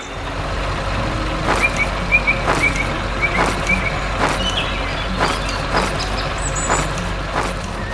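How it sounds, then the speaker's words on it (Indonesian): A red cartoon truck working on a farm: a steady vehicle drone with repeated high reversing-style beeps and sharp air-brake-like hisses at regular intervals, fairly loud and close, with no talk. "Tanah sedang diolah dengan sangat baik dan truk merah sedang bekerja keras"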